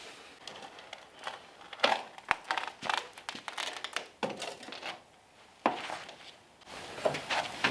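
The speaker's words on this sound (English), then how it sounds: "tearing out our old weather stripping" Old, worn weather stripping being ripped from the door of an abandoned Chevrolet squarebody dually truck, heard as close, irregular bursts of crunching, scraping and tearing with short pauses between pulls, and no talking.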